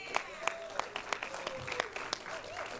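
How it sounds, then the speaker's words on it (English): An audience at an indie film awards show claps for Zach, the applause fairly light and scattered, with a few sharp louder claps standing out and a voice talking over it. "give a round of applause to Zach"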